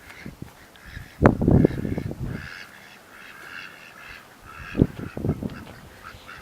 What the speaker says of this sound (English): Day in the life of ducks.